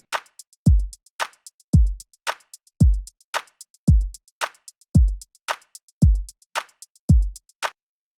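A looped kick drum pattern with a plugin-resynthesized low end: about eight to nine punchy, deep thumps at a steady tempo, each with a sharp click on top and a booming tail, loud and alone with no talk.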